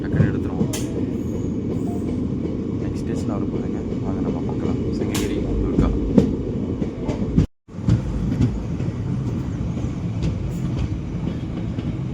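A passenger train on the Salem to Erode line rumbles steadily along the track with rhythmic wheel clatter and occasional squeals, heard from on board, continuous apart from a brief cut.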